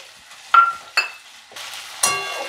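Tomatoes dropped into hot oil with spices for a Bengali rohu fish curry, giving bursts of sizzling and stirring in several short surges, close and fairly loud, with no talk.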